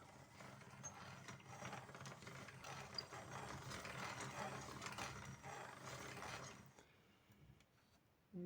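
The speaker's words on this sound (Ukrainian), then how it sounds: "Ось зробив пристрій для намотування нитки на паперові циліндрики" A homemade winding device spins thread onto paper cylinders with a faint, steady mechanical whir and rattle that runs for several seconds, then cuts off near the end.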